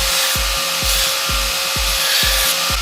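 A plasma cutter slices through metal with a loud, continuous hiss, close and steady, over a faint tonal hum and a regular thumping pulse, with no talking.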